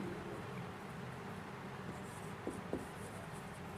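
Faint scratching of someone writing a physics definition on a board or paper during a Class 11 vector lesson, steady and soft under a low background hum, with a couple of brief taps near the end and no talking.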